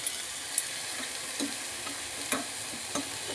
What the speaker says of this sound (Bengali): ভাজতে হবে এটাকে, তারপরে সজনে ফুলটা দিয়ে আবার ভালো করে নাড়াচাড়া করবো।